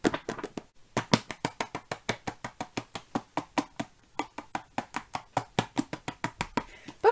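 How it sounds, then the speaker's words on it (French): Rapid, evenly spaced hand claps made while holding a book, each a sharp close slap in a long steady run with one brief pause, no voices. "pas facile d'applaudir avec un livre comme ça."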